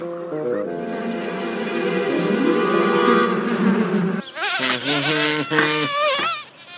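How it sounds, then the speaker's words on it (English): Cartoon bees buzzing in a comic scene, layered, wavering drones that rise and fall in pitch, loud and close, with a choppier burst of buzzing near the end. "Bees."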